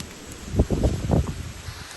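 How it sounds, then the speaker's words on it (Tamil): Strong swirling wind gusts through leaves outdoors, making a rough rustling roar that swells in a couple of surges and eases off, with no voices. "காற்று எப்படி அடிக்குது பார்த்திங்களா ஆடி மாதம் காற்று நல்லா சுழட்டி சுழட்டி அடிக்குது வேகமாக"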